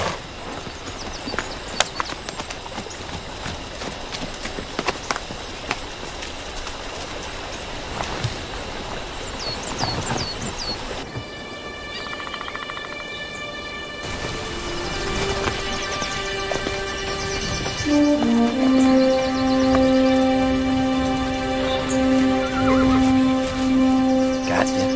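Horse from a period drama setting, with soft irregular hoof clops and rustling in the first half, then a faint whinny beneath a swelling music score that grows louder toward the end.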